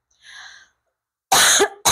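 A man coughs sharply twice, loud and close, after a brief faint sound, with silence in between.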